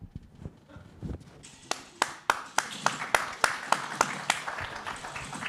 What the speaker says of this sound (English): I'm going to preemptively clap.